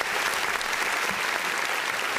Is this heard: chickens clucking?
no